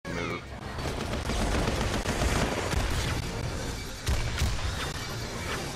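Dense, continuous gunfire from the Punisher in Marvel Heroes, loud rapid bursts packed tightly together for the whole stretch, with a heavier impact near the end.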